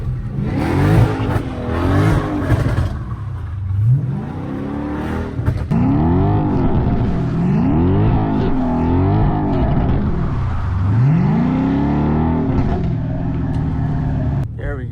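A flame-tuned Dodge Scat Pack revs hard while sliding through turns in the rain, its engine rising and falling in repeated surging sweeps, loud and close, with tyre and road hiss underneath.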